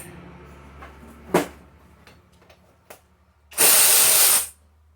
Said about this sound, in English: we get some sort of electric motor or drill attachment